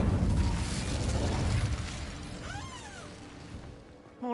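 Fire spell Incendio cast in Hogwarts Legacy, a loud fiery burst and roar that fades over about two seconds, followed by quieter magical whooshing swirls.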